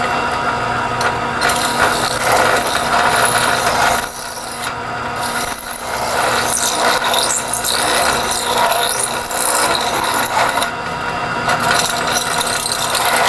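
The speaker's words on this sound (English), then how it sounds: "So let me elongate these holes now." A power tool grinds and rasps steadily while elongating mounting holes in the arm of a Dewalt DW788 scroll saw, a continuous close mechanical whirring with ratcheting, scraping texture and brief dips in intensity, with no talking.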